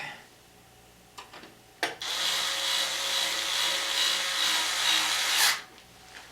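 A power screwdriver drives a screw into the back of a computer case, with a few faint clicks and a knock, then a steady buzzing whir for about three and a half seconds before it stops.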